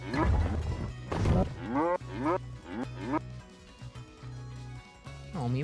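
Cartoonish cow moos from an animal simulator video game, several loud, drawn-out lowing calls in a row over a steady droning game background, close and clear.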